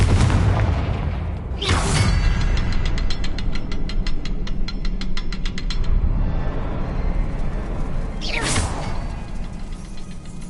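Confringo fire spell in Hogwarts Legacy bursting twice as booming blasts, the first near two seconds and the second near eight and a half, over a constant game ambience with a rapid clicking rattle in between.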